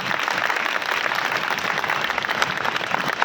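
A gathered audience at a Buddhist dhamma talk claps together in a steady, fairly loud patter that fills the whole stretch without pause or speech.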